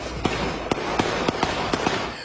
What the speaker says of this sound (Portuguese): De repente, os disparos.